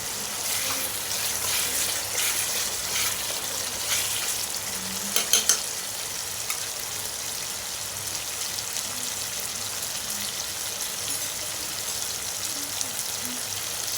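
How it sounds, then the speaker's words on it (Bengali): Cashew paste goes into a pan while mushroom masala cooks, and it fries with a steady sizzle and crackle, with a few stirring scrapes and a brief sharp clatter partway through. "এবার ওই কাজু বাদামের পেস্টটাকে দিয়ে দেবো"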